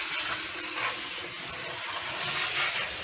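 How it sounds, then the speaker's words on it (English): A model Class 66 locomotive runs around a layout at full speed, giving a steady, continuous rushing whir with mild swells in loudness, fairly even throughout with no talk. "that noise you can hear in the background is my Class 66 flying around the track at maximum speed"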